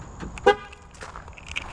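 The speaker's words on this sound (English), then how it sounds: "Gonna lock up the truck here." A truck's horn gives one short, loud chirp as it is locked with a key fob, surrounded by faint outdoor background noise before a backpacking trip.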